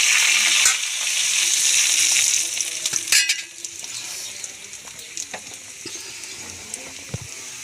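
Dried red chillies and curry leaves hit hot oil over fried shallots for a Kerala mackerel curry tempering, giving a loud, steady, close sizzle that settles into a softer crackle with scattered clinks and pops.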